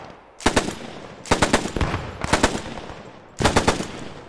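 A machine gun in the video game Post Scriptum fires in four loud, close bursts of rapid shots, separated by short pauses.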